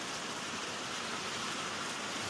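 Heavy rain pours down in a dense, steady hiss, loud and unbroken throughout, with no voices over it.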